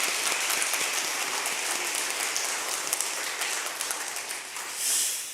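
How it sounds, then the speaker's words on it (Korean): A Korean church congregation in Detroit claps in encouragement for twenty-five children finishing fifth grade and moving up to the youth group; steady, moderately loud applause fills the sanctuary, thinning slightly toward the end. "우리 이 아이들을 위해 한번 격려의 박수를 해주시면 감사하겠습니다."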